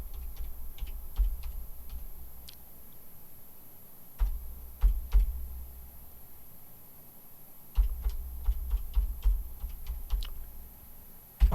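Bursts of typing on a computer keyboard, quick clustered key clicks in several runs separated by pauses, close and fairly quiet over a steady background hum, with no talking.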